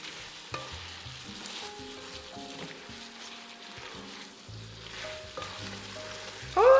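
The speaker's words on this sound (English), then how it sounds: "then I'm gonna stir everything up" Chicken feta pasta sizzling in a pan as it is stirred, a steady frying hiss with a sharp utensil knock and scraping strokes, close up, with a faint hum and a louder clatter at the end.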